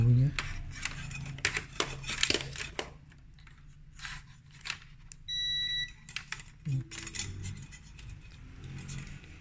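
An electronic buzzer tone used while testing a Sansui AU-X117 stereo amplifier: a short steady beep of a few parts, heard mid-clip amid handling noise, low hum and talk.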